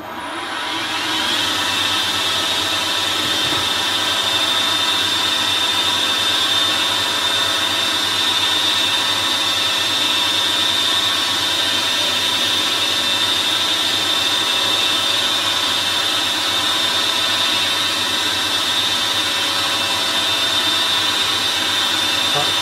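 A drill bores into brass for a carburettor modification, running steadily and loudly throughout, with a high whining tone over a grinding mechanical hum, no pauses.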